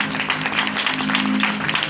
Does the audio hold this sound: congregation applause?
yes